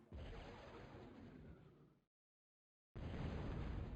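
A missile launches and detonates in a space combat video game, a loud broad roaring blast that fades over two seconds, falls silent, then gives way to another heavy burst.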